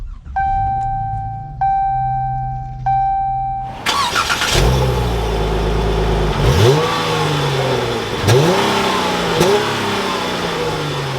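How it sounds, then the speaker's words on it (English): A 2022 Dodge Challenger SXT with its engine off chimes a few times before the starter cranks and the engine catches with a loud flare, then settles into a deep idle with several blips of revving. "In order to do that, let's fire this up."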